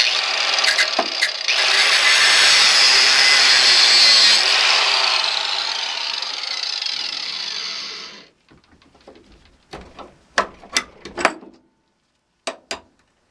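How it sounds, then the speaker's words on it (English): Power tool cutting through the rounded end of a seized bolt on a Yamaha FZR motorcycle under restoration, a loud, steady grinding whine lasting about eight seconds, then scattered sharp clanks and taps of metal. "cut the end of that where it's radiused off, where it's rounded off,"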